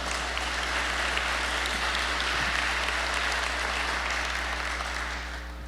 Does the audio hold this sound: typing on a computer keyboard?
no